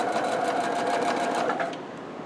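Sewing machine stitching a back tack on fabric, a steady close whirring run of rapid stitches that slows and softens near the end.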